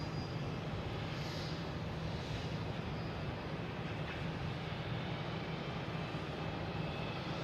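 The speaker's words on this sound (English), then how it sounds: "Lufthansa is rolling around out there." A Lufthansa airliner taxiing at Boston Logan International Airport, heard as a steady, far-off engine rumble that holds evenly throughout without any voices.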